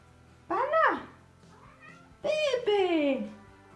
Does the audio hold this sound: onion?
no